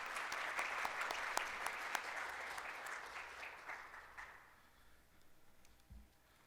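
A round of applause for scholarship recipients at an event with the Governor: a moderate crowd claps steadily, then the clapping thins out and fades away, with a small thump near the end.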